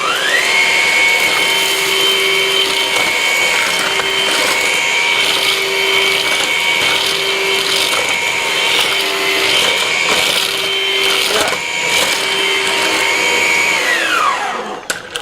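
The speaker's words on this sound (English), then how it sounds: "If you can see it, let's see if we can hoover it up." Vax Pace vacuum cleaner with its brush on hoovering up spilled porridge, a loud steady motor whine held for about fourteen seconds before winding down, with brushing and rattling as it picks up, no talking.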